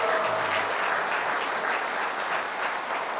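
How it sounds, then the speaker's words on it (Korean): Audience applause fills a hall at a political party's New Year greeting event in Daejeon, steady dense clapping throughout with no voices over it. "큰 격려의 박수 한번 다시"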